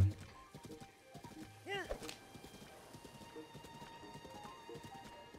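Horse clip-clop with a neigh or whinny in The Legend of Zelda: Breath of the Wild, hooves thudding steadily through the clip under game ambience and a brief spoken word.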